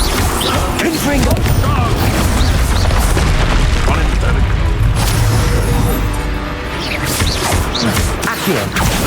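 Confringo explosive spell blasts in Hogwarts Legacy, a dense barrage of loud booms and crashing impacts filling the scene, with shouted voices mixed into the chaos.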